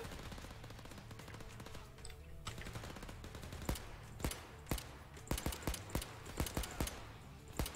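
Gunfire in the video game Overkill's The Walking Dead, sharp single shots and quick bursts that crack out irregularly over a low game background, growing denser toward the end.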